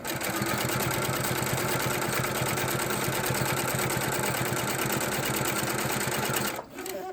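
Sewing machine stitching a jelly roll fabric strip, a loud, fast, steady mechanical whir with a rhythmic pulse running close and continuous before stopping abruptly near the end.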